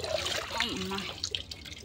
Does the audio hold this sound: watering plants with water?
yes